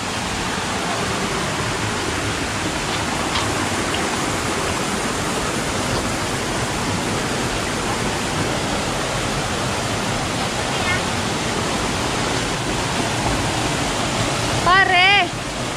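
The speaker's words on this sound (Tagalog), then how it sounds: "Ito na, kabsat, ang falls." A waterfall roars nearby in a dense, unbroken wash of falling water that fills the whole stretch, with a brief voice rising over it near the end.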